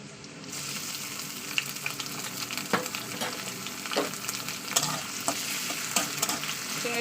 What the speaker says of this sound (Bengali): চিংড়িটা প্রথমে একটু কষিয়ে নেবো, তারপর রান্না করবো